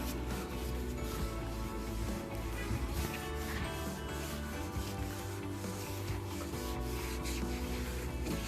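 Cleaner being rubbed onto the plastic parts of a commercial vehicle's engine, a steady continuous scrubbing and wiping friction at close range with no talk over it.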